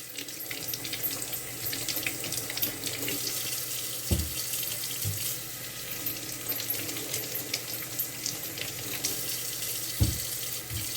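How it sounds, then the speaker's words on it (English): Steady running tap water splashes over sweet potatoes being rinsed in a kitchen sink, with a few soft knocks and thumps of the potatoes against the basin throughout. "go ahead and wash my potatoes off. Just rinse them off really good"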